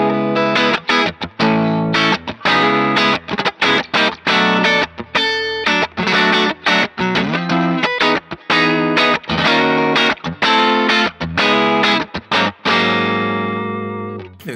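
Distorted electric guitar riff played through a Synergy Core EQ plugin with a mid-frequency boost around 1.6 kHz, choppy palm-muted chugs and chords running steadily and loud without talk.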